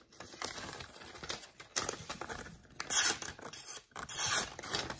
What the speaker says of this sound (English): So here's a cut test on this receipt paper.